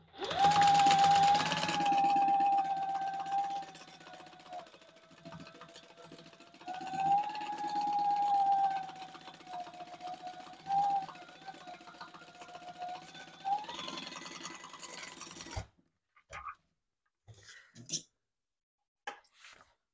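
A sewing machine bastes a pocket onto a lining piece, a steady whirring hum that runs for about fifteen seconds with slight pitch shifts, then stops, leaving a few quiet handling clicks and taps.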